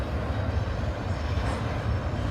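A Norfolk Southern freight train loaded with 40-foot shipping containers rolls past near a riverside trail, giving a steady low rumble and rattle of wagons that stays fairly distant and even.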